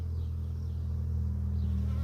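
Honeybees swarm around a hive during feeding, a steady, close, droning buzz that holds evenly throughout with no voices.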